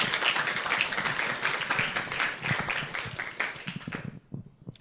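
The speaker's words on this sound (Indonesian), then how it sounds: "Tepuk tangan yang hangat, luar biasa buat Unicorn" Warm applause from an audience at a motivational business talk, dense continuous clapping that carries steadily for about four seconds, then thins to a few scattered claps and fades into near silence.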